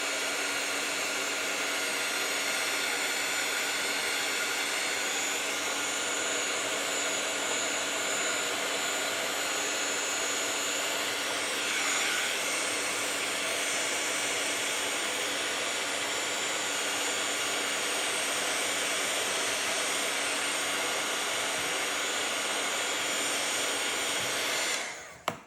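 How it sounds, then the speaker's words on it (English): A heat gun blows steadily for a long stretch while melting a thick coat of beeswax on photos, a loud, constant close-up whir and rush of air that cuts off abruptly at the end. "because since this is going on so thickly, I'm gonna use my heat gun one more time."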